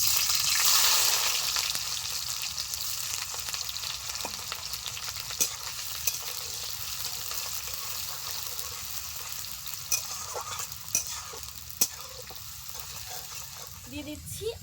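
Chopped onion frying in hot oil with a bay leaf, dried red chilli and whole white cumin: a steady close sizzle that surges at the start, with scattered sharp pops and spoon clicks throughout.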